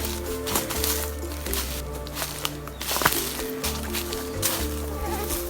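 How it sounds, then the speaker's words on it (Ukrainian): Mosquitoes and other insects whine and buzz steadily in dense, overgrown woods around a dried-up former wetland, close around someone pushing through thickets, with rustling footsteps and brush noise mixed in. "Комарі слідом за мною."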